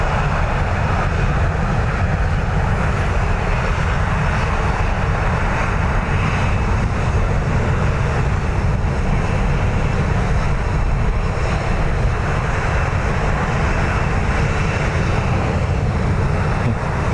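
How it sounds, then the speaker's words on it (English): A Ryanair jet taxis at Dublin Airport among departing aircraft, a steady broad engine roar holding at constant level for the whole stretch, with no voices over it. "Another Ryanair turning the corner down below me as well"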